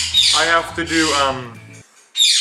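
Quaker parrots squawk in bursts around a person talking, with their sharp, grating calls most distinct at the beginning and again at the very end once the speech stops.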